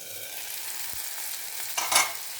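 Tomatoes fry in a pan, a soft, steady sizzle with a brief spatula scrape near the end, with no talk.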